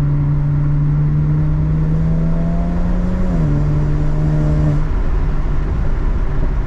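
A BMW 335i with the N54 twin-turbo engine and anti-lag system builds boost while stationary, a loud steady engine drone holding a sustained tone for several seconds, dipping briefly in pitch partway through before cutting off abruptly near the end.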